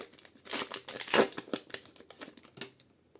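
Wednesday trading card booster pack being torn open and its foil wrapper crinkled, a close, irregular burst of crackling and ripping lasting a few seconds with no talking.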